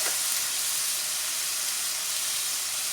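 Chopped garlic dropped into a hot pan for a Thai basil chicken with cashew dish, giving a steady, bright, hissing sizzle that holds evenly throughout with no talking.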